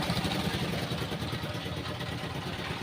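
A boat engine drones on a river trip toward Sada Pathor, a faint, continuous low chugging rumble with no clear break.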